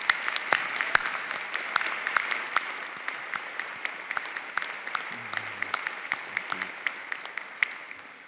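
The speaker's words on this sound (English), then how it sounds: "let's give them a round of applause" Graduation ceremony audience applauding the faculty, a steady spread of many hands clapping in a large hall, moderately loud and sustained before tapering off.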